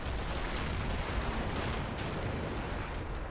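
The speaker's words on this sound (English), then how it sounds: "Mortars are being stepped up now." A dense mortar and gunfire barrage in a WWII video game rolls on without a break, heavy overlapping blasts and crackling shots forming a loud, continuous wall of battle noise.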